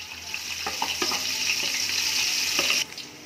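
Chopped onion and crushed garlic frying in oil for a Chinese-style chicken vegetable biryani, giving a steady close sizzle with a few stirring knocks before it drops off near the end.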